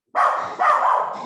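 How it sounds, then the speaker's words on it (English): A dog gives two quick, loud barks close by, with a slightly whiny, yipping edge. "my dog started barking"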